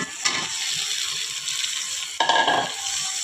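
Spice masala and potatoes fry in a pan under a steady sizzle, broken by two sharp bursts of stirring and scraping, close up, with no voices.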